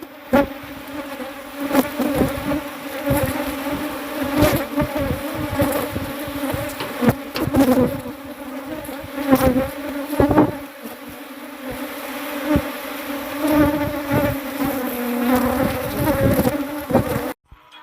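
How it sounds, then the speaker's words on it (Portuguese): Honey bees buzz in a dense, steady drone while being moved from a strong colony into a new hive box during a split, the swarm loud and close throughout with brief surges. "vou estar colocando aqui só as abelhas"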